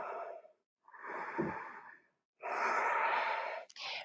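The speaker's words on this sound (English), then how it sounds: "Taking 5 deep belly breaths." Slow, deep belly breaths taken during a yoga flow, three long airy inhales and exhales separated by short pauses. They are soft and close, with no talking.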